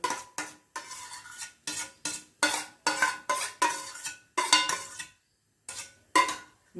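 Spoon clinking and scraping in a pan as mango pulp is added to sugar and mixed for a ripe-mango sweet, a series of close, regular bursts with short pauses between them and no talking.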